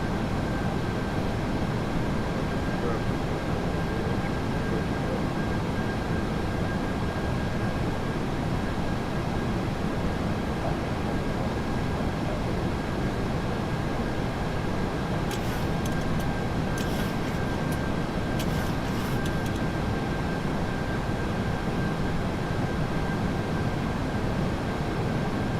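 A PMDG 737-800 rolling down the runway in the flight simulator MSFS2024, a steady, loud broadband engine roar and rumble with a constant tone and a few faint clicks partway through.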